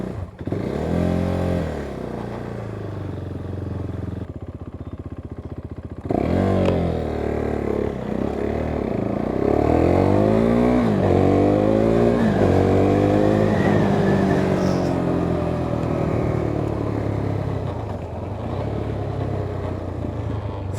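A KTM 390 Duke with an overheating engine and dead radiator fan rides through countryside, its single-cylinder engine loud and close, revving up through the gears in repeated rising sweeps with steady wind and road noise.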